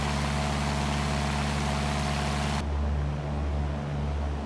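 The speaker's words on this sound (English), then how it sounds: "That little engine's working pretty hard right now." Small aircraft engine in the X-Plane 11 flight simulator, a steady loud drone with a constant hum that abruptly shifts to a deeper, muffled tone partway through while climbing.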